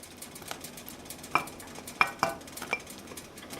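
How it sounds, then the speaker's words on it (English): A spoon stirs cream cheese into a pot of jalapeño popper chicken soup, with soft, steady stirring and a few sharp metallic clinks against the pot, all heard close up with no talking. "Now I'm stirring in the cream cheese."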